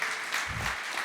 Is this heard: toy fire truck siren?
no